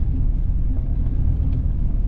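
A 1983 Pontiac Parisienne four-door, originally fitted with a 305 four-barrel V8, drives along with a steady, dense low engine rumble and road drone that holds even throughout, with no talking.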